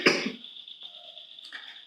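A single sharp cough from someone with sinus trouble and possible Covid symptoms, loud and close at the start, followed by quiet room tone and faint breathy noise.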